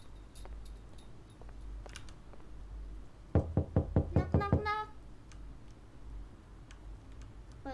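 Knocking on a house door in the game Hibernation: a quick run of about seven firm, evenly spaced knocks, close and loud, set against a quiet ambient background.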